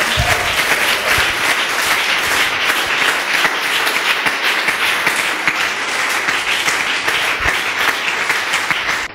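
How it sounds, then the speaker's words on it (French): A church congregation at an evangelical service applauds steadily and loudly for about nine seconds, a dense wash of many hands clapping with scattered voices mixed in. "give the Lord a big clap"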